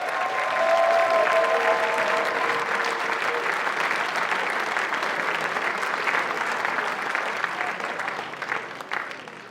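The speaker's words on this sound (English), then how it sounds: "Give them both a big round of applause." Sustained crowd applause in a hall at a Pan Celtic festival competition, many hands clapping steadily and fairly close, with a few voices and a brief whistle early on, tapering slightly toward the end.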